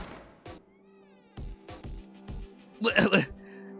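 A cat in the Burrows video game gives a loud, wavering meow near the end, following a few thumping knocks over a steady low hum.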